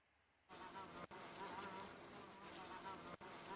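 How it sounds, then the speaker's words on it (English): Dense insect buzzing and rustling used as ambient audio for a Dungeondraft swamp ruins map, beginning abruptly after a half-second of near silence and then holding a steady, close, even drone with two brief dropouts. "different insect rustling and buzzing audios"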